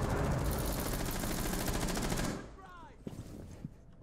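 Rainbow Six Siege gunfire unloads a full magazine in a loud, rapid automatic burst lasting about two seconds. It then stops abruptly, leaving a few faint clicks and clatters.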